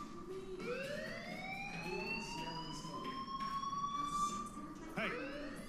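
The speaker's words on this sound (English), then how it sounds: "Do you hear that fire alarm?" A fire alarm wails in the video game Life Is Strange, its rising siren tone sweeping upward and holding steady, loud and continuous, with a brief clatter near the end.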